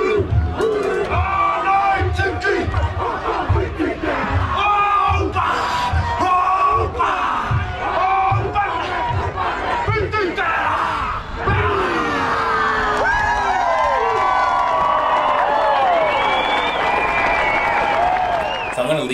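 A large protest crowd in New Zealand chanting in rhythmic unison, then roaring, cheering and clapping, loud and dense with shouted voices throughout.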